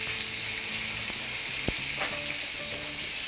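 Steak sears in a hot pan after being flipped, giving a loud, steady sizzle with a few faint clicks and a brief knock partway through, heard alone without talk.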